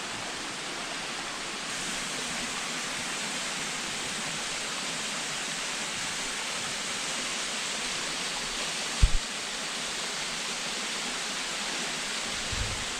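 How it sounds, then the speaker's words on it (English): A waterfall beside a muddy hiking trail roars as a steady, broad rush of falling water throughout, with one brief knock near the end. "all that up there is a waterfall too"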